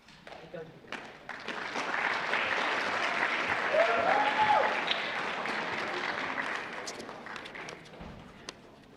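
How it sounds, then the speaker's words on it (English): An audience at Kennedy High School's fall sports awards ceremony claps, a modest, steady round of applause that swells, then tapers off, with a few scattered claps at its edges. "Dr. Valente, please note that was the weakest applause I've ever gotten."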